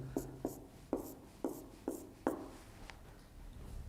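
A pencil coloring in part of a technical drawing of a machining allowance on paper, six sharp scratchy strokes spaced about half a second apart, close and fairly quiet, with no talking.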